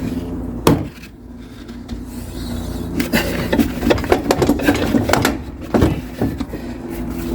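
A spring compressor is tightened on a Sprinter van strut during a Winnebago View Navion install, producing irregular metallic clanks, ratcheting and knocks at close range, busiest in the second half, with no talking.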